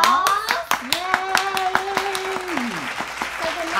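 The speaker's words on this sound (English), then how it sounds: "So let's give Miss Tina a round of applause." A small group claps for a birthday card entry, the quick irregular hand claps near and lively, with voices talking over them throughout.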